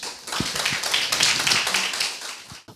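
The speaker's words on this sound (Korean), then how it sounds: "큰 박수로 좀 맞이해 주시기 바랍니다" Audience applause at an open forum on DACA and immigration policy welcomes a speaker, a dense, steady clatter of many hands lasting a couple of seconds before fading out abruptly.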